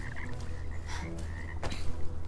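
Frog croaking in the video game Bramble: The Mountain King, a few repeated croaks over a steady low ambient drone, close and moderately loud with no talk.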